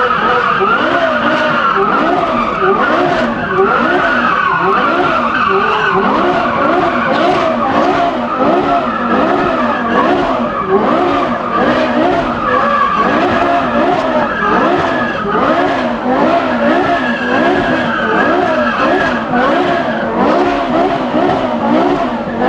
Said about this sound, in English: Do you know how to do a donut, Josh?